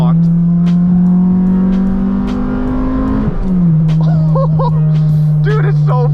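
Acura Integra GSR with an eBay exhaust accelerating hard, a loud droning engine note climbing steadily, dropping at a gear shift, then pulling again, with people talking over it inside the car.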